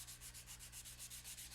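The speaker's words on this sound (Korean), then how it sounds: "우선 거친 사포로 표면을 다듬는다." Coarse sandpaper rubbing over the surface of a bronze Buddha statue by hand, in fast, even back-and-forth strokes, about six per second, close but faint, with no voices.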